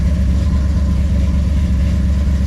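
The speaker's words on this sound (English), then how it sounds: "Today's big block brake is brought to you by a 535-inch big block Ford." A 535-cubic-inch big block Ford V8 runs at a steady, loud idle, a close, deep, constant rumble with no other sounds.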